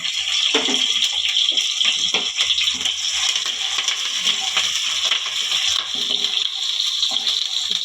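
Chopped onions and curry leaves dropped into hot oil for bendekai (okra) sambar, a loud, dense hiss and crackle close up, steady throughout with no speech.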